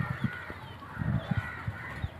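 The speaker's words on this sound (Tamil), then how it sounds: "எங்கள் கோழிங்கெல்லாம் பாருங்கள் வந்து என்ன பண்ணிகிட்டு இருக்கீங்கன்னு வந்து மண்ணை கலரிட்டு இருக்காங்க" Backyard chickens scratching at garden soil make short, close clucking calls in an uneven rhythm, several bursts over a couple of seconds with faint ambient noise.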